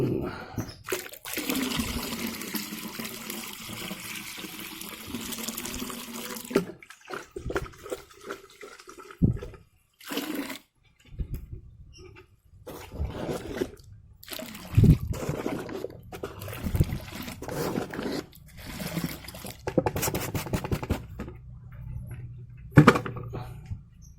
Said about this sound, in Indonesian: pelarut cyanida sudah dimasukkan